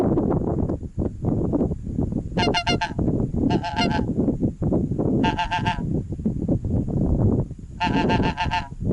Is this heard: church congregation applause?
no